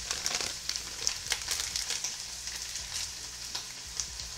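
Shallots fry in a hot pan with a constant close sizzle, broken by frequent crackles and small pops.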